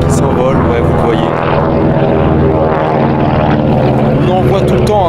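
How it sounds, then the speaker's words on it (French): A vintage propeller aircraft takes off at the Temora air show in Australia, its loud, steady engine drone sustained throughout with a constant harmonic hum and no pause. "Encore un avion qui s'envole"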